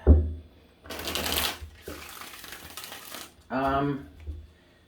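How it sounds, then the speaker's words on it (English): Two bursts of tarot cards being shuffled, each a papery riffling whir lasting under a second, with someone speaking briefly afterward. "I was trying to shuffle"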